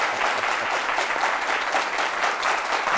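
A theatre audience at a sold-out comedy show bursts into sustained, dense applause, a continuous wash of many hands clapping close and loud with faint crowd murmur beneath, no voice on top.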